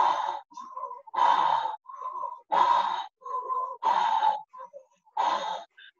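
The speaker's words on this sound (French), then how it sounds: "Respirez plus fort. Respirez plus fort." Forceful rhythmic breathing during a Kundalini yoga exercise, strong bursts of breath alternating with brief pauses, close and loud, mixed with short vocal sounds.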